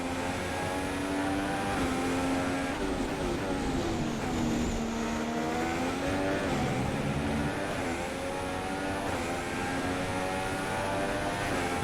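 A Formula 1 race car engine in F1 2016 at the Australian Grand Prix, a loud, continuous high-pitched whine whose pitch climbs and drops as gears shift and the car brakes and accelerates, with no voices.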